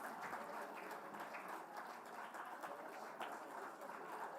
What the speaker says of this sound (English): I think we could keep the applause going for a little while longer